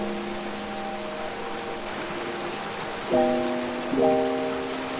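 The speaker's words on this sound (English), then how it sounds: "It is starting to rain" Steady light rain patters in a soft hiss, with a faint tonal whine rising and falling in the background.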